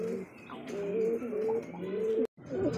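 Giribaz pigeons coo steadily at close range, soft rolling calls repeating one after another with a brief gap near the end, without any talking over them.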